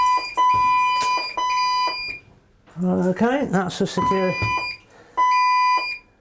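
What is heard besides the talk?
building security alarm going off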